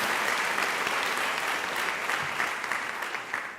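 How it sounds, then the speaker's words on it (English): Sustained audience applause at a university graduation ceremony, a dense, even rush of many hands clapping, moderately distant and steady, tapering slightly at the end with no speech over it. "Can we give him a round of applause?"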